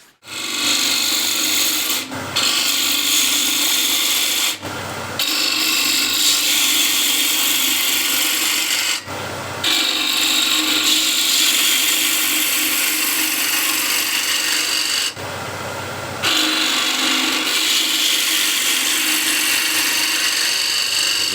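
Negative rake scraper cutting wood on a lathe, a loud, steady rasping scrape that runs continuously, broken by four short pauses where the tool lifts off the spinning wood.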